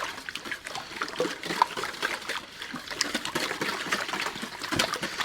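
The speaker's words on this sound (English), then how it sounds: "Let's go ahead and start pre-breaking up all those eggs." About a quart of raw eggs, roughly twenty, whisked in a bowl for a fried chicken batter, giving a steady wet clicking and sloshing patter throughout.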